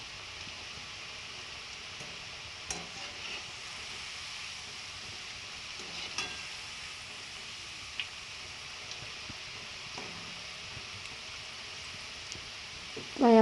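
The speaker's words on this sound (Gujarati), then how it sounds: "હવે થોડી થોડી કરી આપણે ફ્રેન્ચ ફ્રાય છે તે ફ્રાય કરી લઈએ" French fries frying in hot oil, a soft, steady crackling sizzle that stays faint and even, with occasional small pops and a louder clatter at the very end.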